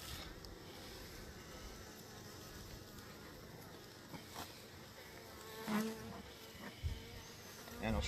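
Many honey bees hum at a hive in a continuous, droning buzz close by, with a few louder passes and occasional light knocks near the end.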